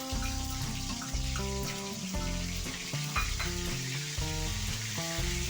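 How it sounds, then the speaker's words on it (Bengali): Ginger and green chili paste sizzles and fries in a pan as it is stirred for a Bengali-style yogurt chicken curry, with steady crackling close by over quieter background tones. "দিয়ে একটু নেড়ে নিলাম যাতে পুড়ে না যায়"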